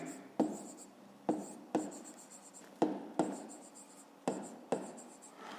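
Pen scratching out a math solution on paper for a fifth-grade exercise, in six close bursts of writing separated by short pauses, with no talk.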